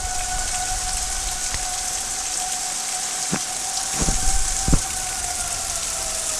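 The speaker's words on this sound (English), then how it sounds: "Now we're getting the torrential rains" Steady torrential rain from a tornado-warned storm pours down in a dense, continuous hiss, with a faint wailing tornado siren running underneath and a few sharp drips or knocks.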